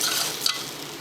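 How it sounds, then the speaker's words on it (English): Food for sopa de salchichon sizzling in a hot pan, a faint continuous hiss with a brief louder crackle midway, close up with no speech. "I'm trying to see if I hear a little sizzle."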